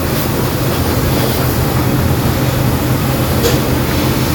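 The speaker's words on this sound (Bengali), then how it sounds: "বনেটটা খুব ভালো করে পানি মারতেছে।" Water from a high-pressure jet hammers across the bonnet of a muddy ride-sharing car during a full car wash, a constant, loud, rushing spray close by.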